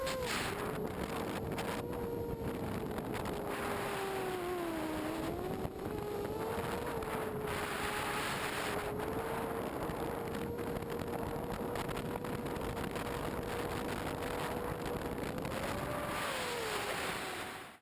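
An ImmersionRC Vortex FPV racing drone flies steadily and close, its motors giving a continuous high buzzing whine whose pitch rises and dips as the throttle changes, with wind noise underneath.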